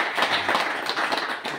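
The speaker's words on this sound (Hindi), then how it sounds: "तो पहले जोरदार तालियां लियाकत जी की हैं।" Loud, close clapping from an audience at a talk honouring a college staff member, a dense, brisk patter lasting under two seconds.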